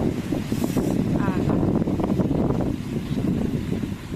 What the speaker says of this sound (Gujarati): તમને આમાં અવાજ પવનનો આવતો હોય છે